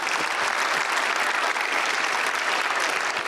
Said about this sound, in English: give me a hand clap of praise